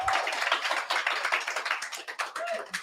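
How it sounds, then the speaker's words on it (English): Applause from a small meetup audience at a cloud networking talk in Brighton, thanking a presenter; scattered hand claps sound close and uneven, thinning toward the end. "Round of applause."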